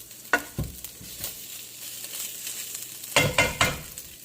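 Bacon ragu being stirred in a frying pan, giving a soft continuous sizzle under a few sharp scraping and clanking strokes of the spoon against the pan, up close and without talk.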